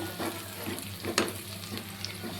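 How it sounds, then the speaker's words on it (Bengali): Cabbage paste frying in hot oil in a pan, a steady close sizzle broken by scraping, stirring bursts, one sharper clatter near the middle, with no voices. "এবার এর মধ্যে দিয়ে দিব পাতাকপি পেস্ট। এবার পেস্টটাকে আমি আরও কিছুক্ষণ ভেজে নেব।"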